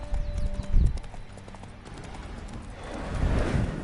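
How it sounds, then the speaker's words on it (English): Horse hooves clip-clop steadily in a video game, a fairly close rhythmic trot beneath ambient game sound and a brief tonal hum early on. "Spooking my horse."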